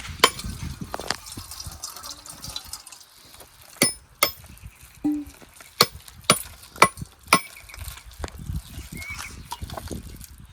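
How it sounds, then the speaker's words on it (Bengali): A ripe coconut is cracked open to get at its water. A series of sharp, close knocks and cracks sounds in the middle, over a quiet background of light splashing and handling noise. "নারকেলটা এবার ফাটাই নেবো দেখি নারকেল জল আছে নাকি আবার জল আছে"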